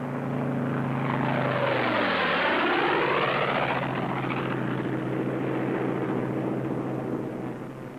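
P-47 Thunderbolt fighter planes fly past in formation, their propeller engines building to a loud, close roar with a clear pitch drop as they pass, then a steady drone that slowly fades.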